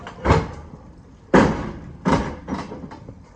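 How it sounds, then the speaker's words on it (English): A tuck-under slideout liftgate on a truck is pulled out, giving four or five loud metallic clunks and thuds at uneven intervals, each ringing briefly and then dying away, with no voices. "Once you slide the liftgate all the way out"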